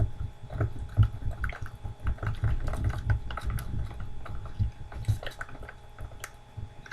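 Plaster is mixed with water to coat cardboard buildings, making soft, irregular wet squishing and dripping stirs close by with no voices.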